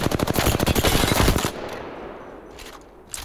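The R3 gun in the Apex Legends video game fires a rapid, loud burst of evenly spaced shots, then cuts off into a fading echo with a couple of faint later shots.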